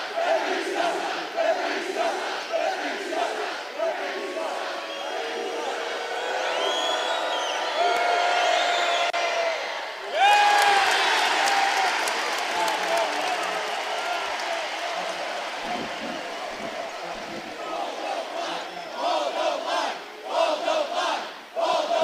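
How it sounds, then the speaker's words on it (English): A college basketball arena crowd at a Utah State home game chants loudly and in unison at the referee, a dense roar of many voices that swells partway through and holds steady throughout. "And here comes the ref chant."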